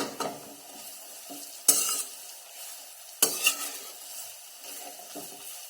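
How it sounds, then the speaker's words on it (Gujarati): Grated sweet potato roasting in ghee in a pan over a medium flame for halwa, stirred with a spoon: soft sizzle under repeated scraping strokes, with two sharper utensil clanks against the pan. "હવે ગેસની ફ્લેમ આપણે મીડિયમ કરી અને આ છીણને ઘીમાં સારી રીતે શેકવાની છે।"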